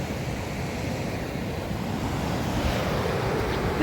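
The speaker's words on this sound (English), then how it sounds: "This is Chesterman Beach, just north of Long Beach, here in Tofino." Ocean surf rolls onto sandy Chesterman Beach near Tofino, a continuous close wash of breaking waves mixed with wind rumble against the microphone.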